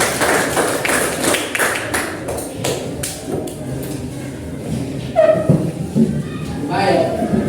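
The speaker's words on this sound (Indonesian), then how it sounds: "tepuk tangan buat kelompok" Classroom applause for a student group: a burst of many hands clapping in a dense patter that fades after a few seconds, then gives way to a teacher talking and room noise.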